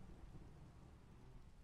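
Steady rain with low rumbling thunder during a thunderstorm in the Minecraft video game, a continuous even wash of sound at a fairly faint level with no one talking.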